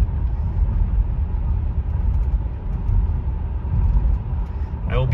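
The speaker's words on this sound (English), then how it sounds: "all you hear from the engine is kind of a gentle whirring sound" Inside a 1971 Mercury Marquis Brougham, its engine gives a soft, steady low whir and road hum under the cabin, continuous and even, with no rumble.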